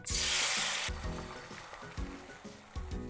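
Beaten eggs hit about a teaspoon of hot frying oil in a pan with a loud burst of sizzling that settles into a steady crackle, with a few soft clunks of the pan.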